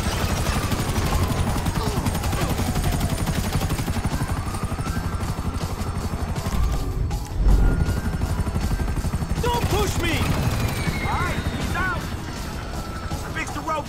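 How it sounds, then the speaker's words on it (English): Helicopter rotors chop steadily through a GTA V rooftop raid gunfight, with bursts of gunfire and crashes layered over the thumping blades and shouted voices. "We gotta take out that chopper!"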